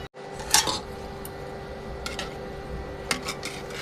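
Noodles being stirred in a pot with a ladle for a children's dish, heard as a few soft metallic scrapes and clinks against the pot over a low steady background hum, with no talking.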